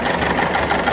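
A 1979 Mercruiser 3.0L 140 hp marine engine runs at a steady idle, a loud, even mechanical drone with a fast rhythmic chatter and nothing else over it.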